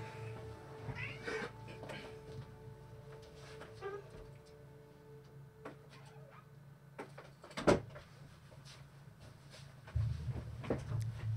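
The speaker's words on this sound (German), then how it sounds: "Und gleich steht sie dann wieder auf der anderen Seite der Tür und maunzt." A cat meows repeatedly from the other side of a door indoors, its calls fairly faint against a quiet room, with a few thumps and light rattles scattered between them.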